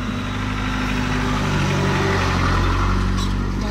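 A farm car crammed with hay, inside and out, idles on a narrow mountain road in Adjara, Georgia, with a steady low engine rumble and vibration close by throughout.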